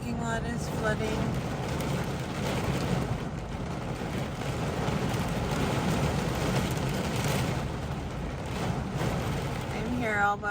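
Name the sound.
heavy rain and thunder in a severe thunderstorm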